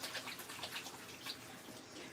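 A kitchen tap runs steadily as hands are washed, a soft continuous splashing hiss with scattered drips, close and fairly quiet, with no talking.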